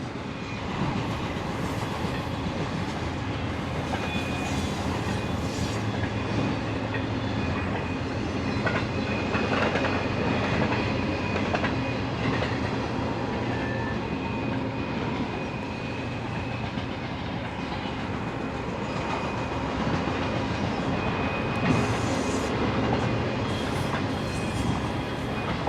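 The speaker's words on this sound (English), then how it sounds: "I love the sound of those trains." Freight train passing through the desert at Ludlow, California, a continuous rumble with clickety-clack of wheels over rails, steady and moderately distant, heard alone without speech.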